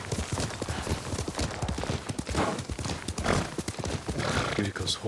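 Rapid clip-clop of horse hooves close by, with a horse whinnying, over a busy soundtrack with some voice in Ghost of Tsushima.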